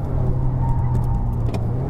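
A 2019 Mazda3 1.5L liftback climbs a hill road in third gear, its engine a steady, loud, continuous drone heard from inside the cabin with road rumble and no talk.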